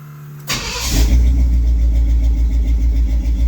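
A 1972 Pontiac LeMans engine with a new exhaust cranks and catches, then settles into a loud, deep, throbbing idle close by, with a slight exhaust leak.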